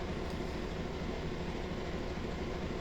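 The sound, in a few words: E8A locomotive in Train Simulator Classic video game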